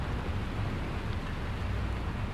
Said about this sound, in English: I'm surprised it's raining, to be honest.